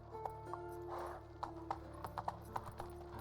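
Horse hooves clip-clopping at a trot in The Witcher 3 video game, a run of sharp, fairly close hoofbeats with an irregular rhythm over a steady game ambience, with a brief whinny-like tone.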